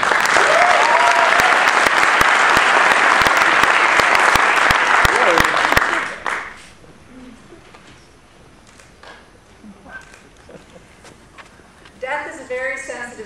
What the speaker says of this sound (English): Let's have a big round of applause for Merilynne Rush.